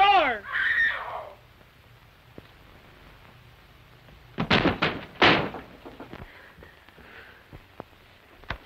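In a 1934 film, a locked bedroom door is pounded in a quick burst of heavy, close thuds after a voice shouts, followed by scattered lighter knocks and faint background sounds.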